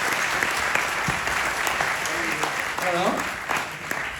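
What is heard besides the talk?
audience applause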